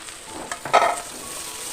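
Tomatoes hit a hot pan with a brief sizzling burst that settles into a steady frying hiss.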